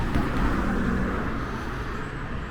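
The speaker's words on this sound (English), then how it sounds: "sorry about the traffic noise" Continuous rumble and whoosh of passing road traffic, fairly loud and steady, fading slightly toward the end with no talking.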